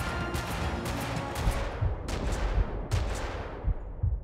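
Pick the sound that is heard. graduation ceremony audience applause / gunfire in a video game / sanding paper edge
gunfire in a video game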